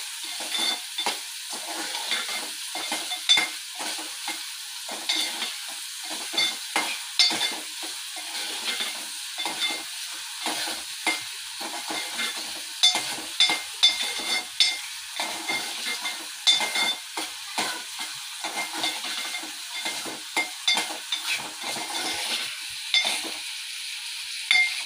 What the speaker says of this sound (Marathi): मंद गॅसवरच हा कांदा परतून घ्या